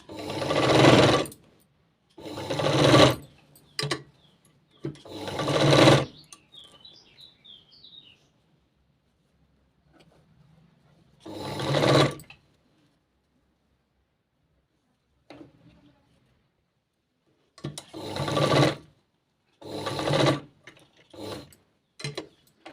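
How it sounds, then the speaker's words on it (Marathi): A sewing machine stitches a blouse sleeve in several short bursts of rapid mechanical whirring, each lasting a second or two and separated by quiet pauses; the motor sounds close and fairly loud with no talking over it. "तर बघा अशा पद्धतीने व्यवस्थित तर बरोबर शिवून घ्यायचं आहे"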